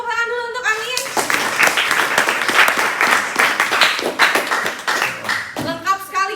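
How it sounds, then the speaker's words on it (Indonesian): A classroom breaks into applause for a student named Amin during a cheese-making biotechnology lesson: a burst of many small hands clapping at fairly close range, framed by a teacher speaking before and after. "Oke, tepuk tangan dulu untuk Amin."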